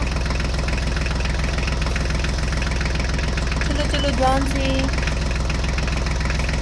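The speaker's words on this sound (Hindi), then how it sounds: "चलो ड्राइवर, जल्दी से ट्रैक्टर गाड़ी को स्टार्ट करो" An HMT tractor engine idles in a steady low rumble throughout, with brief shouted voices over it partway through.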